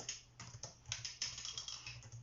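Rapid keyboard typing of a comment, a steady run of light key clicks up close, with no voices.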